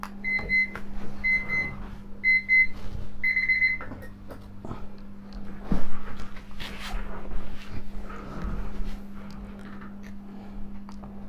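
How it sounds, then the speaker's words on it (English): An alarm clock rings with repeated short beeping bursts in the first four seconds, then stops, leaving a steady low hum and scattered background noise. "for some reason the alarm bell went off."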